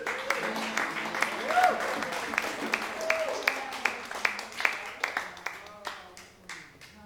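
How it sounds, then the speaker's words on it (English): A congregation at a holiday celebration service breaks into applause, dense clapping that slowly thins toward the end, while someone speaks over it and a faint musical tone lingers underneath. "I love the applause"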